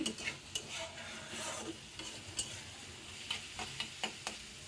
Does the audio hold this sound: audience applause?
no